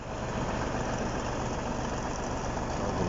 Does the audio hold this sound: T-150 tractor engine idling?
yes